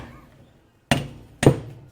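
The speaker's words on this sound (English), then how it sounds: "It's my first time using a hammer." Two hard hammer blows on a metal crown wheel land about half a second apart, sharp and close with a metallic ring, after a brief quiet pause.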